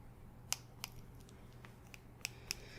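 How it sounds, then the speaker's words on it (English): Cat claw trimmers snip repeatedly at hair, giving sharp, close metallic clicks in an irregular run of about six cuts over a low steady background hum. "These are to trim a cat's claws. I'm gonna use these."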